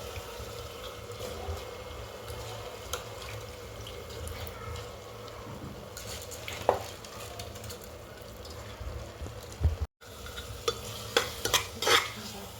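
Basmati rice is stirred in a pot for prawn biryani, giving a low, steady sizzling bed of sound close by. Scattered scrapes and knocks of a utensil land near the end, and nobody talks.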